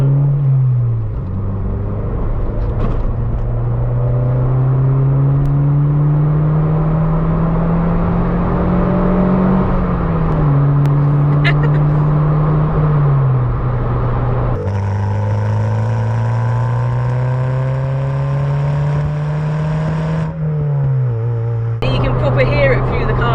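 A Ford Fiesta Zetec S with a new loud exhaust drones from inside the cabin, its engine note rising and falling through gear changes with a deep burbling rumble, while voices talk over it.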